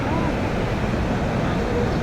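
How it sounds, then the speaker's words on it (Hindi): Saraswati River rushing near Bhim Kund, a steady loud roar of turbulent mountain water with wind buffeting the microphone throughout, no clear talk. "ये सरस्वती नदी सरस्वती जो नदी यहीं से शुरू होती है"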